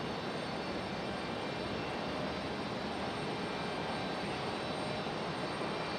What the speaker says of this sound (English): Looks like we got our 737-900 headed back to Atlanta on the runway.